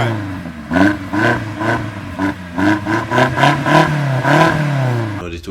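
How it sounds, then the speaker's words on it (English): BMW engine with its exhaust flap opened, revved repeatedly in quick blips that rise and fall in pitch, loud and close, with a rougher surge near the end. "I opened the exhaust flap so you will hear the raw sound from"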